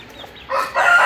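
A native country-breed rooster crows briefly and fairly close on a rooftop terrace, a short raspy call rising after a quiet start.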